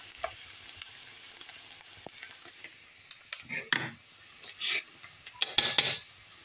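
Ground pork and onions get stirred in a pan, making scattered scrapes and clinks of a utensil against metal, a few louder strokes near the end, over a faint low sizzle with no talk.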